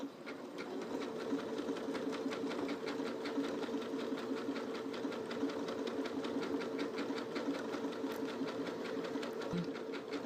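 A sewing machine stitches steadily at a fast, even rhythm, its motor humming underneath, close and alone with no voices.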